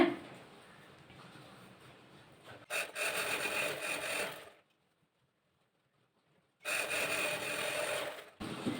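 A sewing machine stitches the two legs of a chudithar pant together. It runs in two close bursts of rapid whirring of about two seconds each, separated by a silent pause, with no voices.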